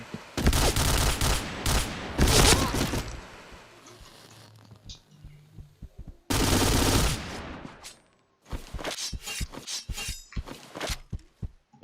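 Rapid automatic gunfire from a newly unlocked gun in a first-person shooter, loud sharp bursts separated by brief pauses, ending with a string of single shots, no talk.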